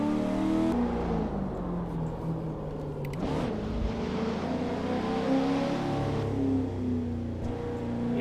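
A heavy modded car drives Brands Hatch in Assetto Corsa, its engine droning and revving up and down with gear changes and a sharp burst around the third second, loud and continuous.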